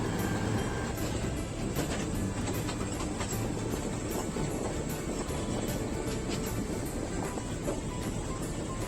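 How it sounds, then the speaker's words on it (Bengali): A toy train at an amusement park in Digha rumbles steadily along its track, continuous clattering wheels and low mechanical noise throughout, close and fairly loud, with no one speaking. "শুরু হয়ে গেল আমাদের টয় ট্রেন জার্নি"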